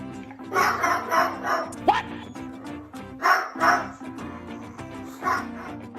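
A dog barks in several bursts of loud, close woofs and yips, with a brief whine between them, during a vet visit.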